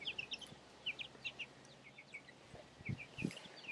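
A broody mother hen guarding her three chicks gives soft, short clucks near the coop, scattered among high, rapid chick peeps and chirps in a quiet outdoor setting.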